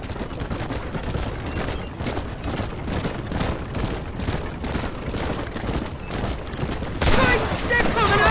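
Rapid, repeated gunfire rings out during a Red Dead Redemption wagon chase, a dense volley of shots crackling steadily over several seconds with a louder burst near the end, mixed with the rumble of the moving wagon.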